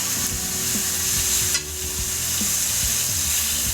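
Thin veal slices frying in a very hot pan, a steady loud sizzle with a brief whoosh midway as a piece is flipped and a few soft utensil taps.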